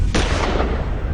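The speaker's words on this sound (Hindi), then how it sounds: "उल्टे अब घर के अंदर से रुक कर फायरिंग शुरू हो जाती है।" Gunfire from inside a house during a police anti-terror encounter in Lucknow. A loud, close, sustained blast roars for about a second and cuts off sharply.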